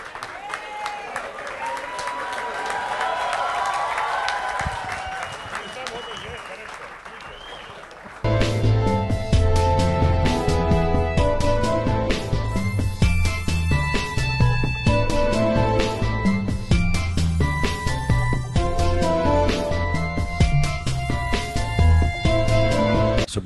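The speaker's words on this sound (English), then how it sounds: "Please stand and give a standing ovation for him." Audience at the National Yash Chopra Memorial Award ceremony applauds as Shah Rukh Khan is honoured, a broad roar of clapping with voices mixed in for about eight seconds, after which loud music takes over.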